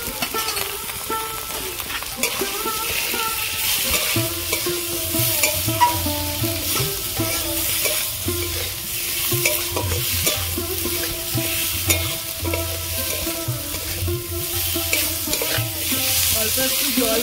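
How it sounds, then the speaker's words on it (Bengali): Spices and potatoes sizzle in hot oil for a cauliflower fish curry, with a spoon scraping and stirring the pan in steady repeated strokes, close and continuous. "সবকিছু দিয়ে আমি ভালো করে কষিয়ে নিয়েছি আলু"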